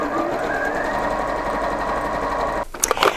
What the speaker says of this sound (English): So let's overcast this edge and get busy.